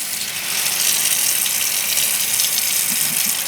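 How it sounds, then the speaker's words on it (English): Cold tap water runs and gushes steadily into a deep bowl while salad herbs for tabouli are washed, a continuous close hiss with faint clinks near the end. "It's very important you wash it with deep bowl full of water."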